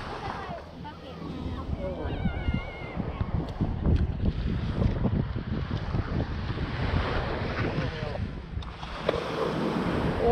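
Ocean surf at Hampton Beach, New Hampshire, on an early-season day: a steady broadband wash of waves with wind buffeting the microphone, people's voices audible faintly in the background.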